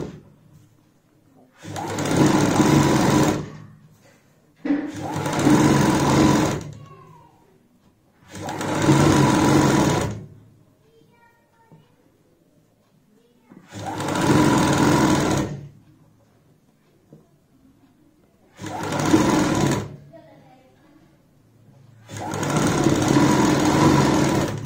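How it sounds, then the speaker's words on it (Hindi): A sewing machine stitches the edge of a cuff sleeve for a kurti or blouse in six separate loud bursts of a few seconds each, with short quiet pauses between them. "तो यहाँ पे मैं किनारी की सिलाई लगा लेता हूँ।"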